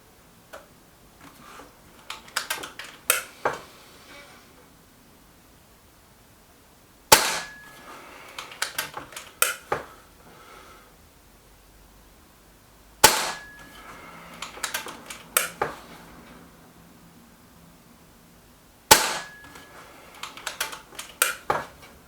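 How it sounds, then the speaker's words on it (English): Five sharp shots from a sub-12 ft-lb .22 air rifle firing Hades slugs, loud and close, spaced about five to six seconds apart, each followed by a scatter of softer clicks and handling knocks in an otherwise quiet setting. "So here we go, straight 5 shots with the Hades."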